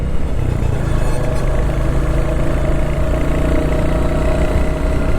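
Royal Enfield Classic motorcycle engine running steadily while being ridden, a loud, continuous low thrum close to the microphone with wind rush on a rainy day.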